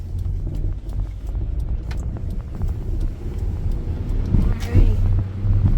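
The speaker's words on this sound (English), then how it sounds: "I'm going in first gear, clutch up, a little bit of gas." A manual-transmission car pulls away in first gear, a low engine hum and road rumble with light wind buffeting and a few clicks, rising slightly in loudness toward the end.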